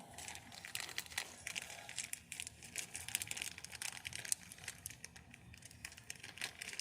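A plastic bag of small parts for an oil catch can install is opened and rummaged through, giving faint, close crinkling and rustling in irregular bursts with no talking.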